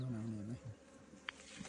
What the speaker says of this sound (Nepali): टन्न मौरी रहेछ।